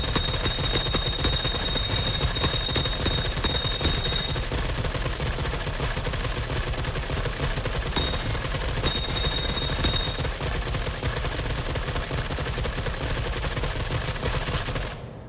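An automatic rifle with an underslung grenade launcher in The Forever Winter fires in a long, unbroken stream of rapid shots, loud and close, with the rattle continuing for about fifteen seconds before cutting off.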